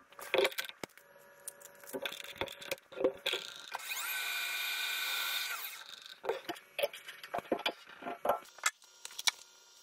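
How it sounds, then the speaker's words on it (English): Lathe drilling a metal part, with a steady whining cut of about two seconds in the middle, surrounded by sharp clattering clicks and knocks of handling and tooling, close and moderately loud, no talk. "Let's get that drilled"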